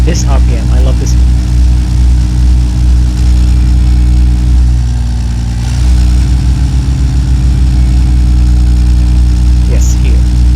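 A steady, loud idle drone comes from an inline car engine in the Automation game, holding an even low rumble throughout with a slight dip in the middle.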